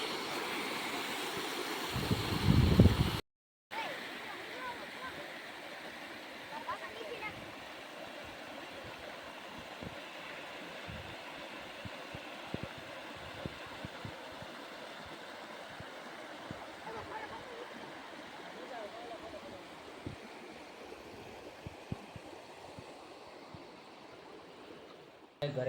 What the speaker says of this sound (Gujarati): મસ્ત ધોધ છે જો